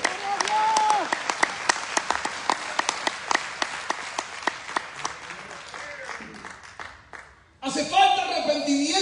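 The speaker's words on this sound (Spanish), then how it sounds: "Fuerte el aplauso." A church congregation gives loud, sustained applause with dense sharp claps and some voices mixed in, then drops away briefly before a burst of speech.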